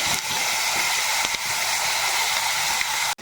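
Amrul leaf paste hitting hot oil with mustard and radhuni seeds in a pan, giving a loud, steady sizzling hiss that runs unbroken and close, then cuts off abruptly at the end.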